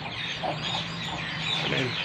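Busy chatter of hens at a breeding farm, soft repeated clucks over a constant noisy background, fairly close and steady.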